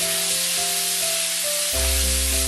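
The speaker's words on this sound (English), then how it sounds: "I'm gonna let it sizzle a few more minutes" Bacon sizzling steadily in a frying pan, a constant hiss with a faint electric hum underneath that grows louder near the end.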